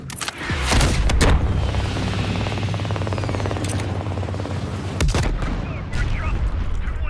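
Heavy gunfire and explosions rage in Call of Duty: Black Ops Cold War, with booming blasts and sharp rapid shots layered over a continuous low rumble, loud and close, as voices speak amid the combat.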